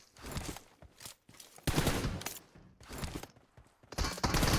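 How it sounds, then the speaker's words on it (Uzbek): Gunfire in a video game, with loud bursts of pistol shots in several clusters separated by short pauses, some sounding like rapid volleys, and no talking. "Pistolet uryapti."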